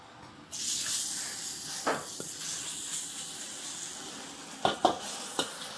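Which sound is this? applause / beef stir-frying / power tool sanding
beef stir-frying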